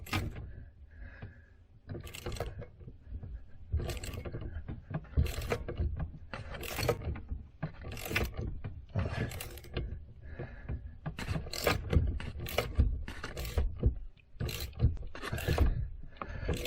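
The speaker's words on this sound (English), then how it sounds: "Working better putting this wrench like this where it can sit on the brake pedal." A wrench ratchets against the brake pedal of a 48,000-pound RV, a close, irregular series of clicking and rattling bursts repeating throughout, fairly faint, with no talk.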